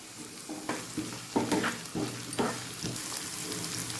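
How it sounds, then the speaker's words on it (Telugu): Onions, spring onion and green chillies fry in oil with a soft sizzle, punctuated by a regular series of spoon taps and scrapes as they are stirred, close by and without speech. "పచ్చిమిర్చి వేసుకుందాం"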